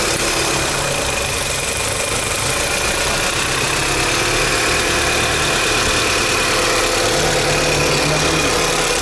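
A Lada Largus Cross engine idles with a steady, loud, continuous hum and faint knocking texture, close to the car, with no break throughout.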